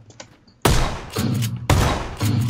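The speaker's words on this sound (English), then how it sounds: "Oh, wait. They were shooting at me." Gunfire in the battle royale video game PUBG: two heavy, loud bursts of rapid shots about a second apart, each followed by a booming rumble, with no talk over them.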